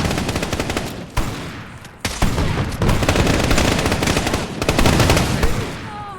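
A gun in Fallout 4 rattles out loud, near, sustained automatic bursts, with brief gaps between volleys and almost continuous firing to the end.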